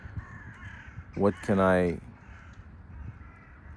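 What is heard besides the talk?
crows cawing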